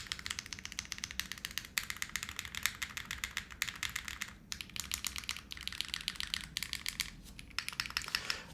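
Rapid, steady typing on a custom Envoy mechanical keyboard fitted with a PBT spacebar, dense clacking keystrokes with a few brief pauses, close and clear with no talk.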